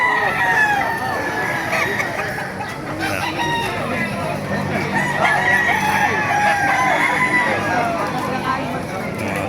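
A rooster crows repeatedly amid other chickens clucking at a busy Baliuag market stall near a bus terminal, with a steady hubbub of crowd chatter and people talking nearby throughout.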